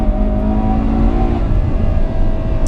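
Ferrari 812 Superfast V12 on a track, a loud, close, continuous engine roar with steady harmonic tones that step down partway through as the gearbox shifts, the revving carrying on without any talk.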